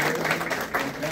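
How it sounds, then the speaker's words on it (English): Audience at a county board of education meeting applauding teacher award winners, a brief even wash of clapping mixed with murmuring voices. "So how about a round of applause?"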